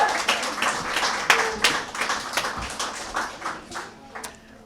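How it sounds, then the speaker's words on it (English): An audience at a Pride Month celebration claps, a moderate burst of applause that holds for a few seconds and then thins out and fades. "Give her a round of applause again."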